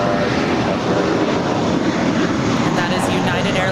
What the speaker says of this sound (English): And that is United Airlines 319 off to Puerto Vallarta. It's a 21-year-old A320.